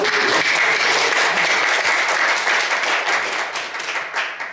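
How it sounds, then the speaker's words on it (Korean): A church congregation claps loudly and energetically, a thick, continuous roar of many hands close by that holds steady and then eases off in the last second. "박수 한번 더 세게 합시다."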